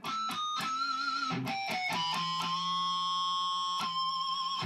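Electric guitar with distortion drive turned up, picked notes producing high squealing pinch harmonics that ring out sustained and loud, several sharp attacks in sequence with no talking.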